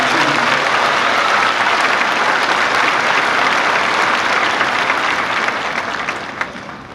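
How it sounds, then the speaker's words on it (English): Sustained, loud applause from a large crowd at a university winter graduation ceremony, a thick continuous roar of clapping that holds steady for several seconds before beginning to taper near the end. "let's give all these graduates another round of applause for their hard work"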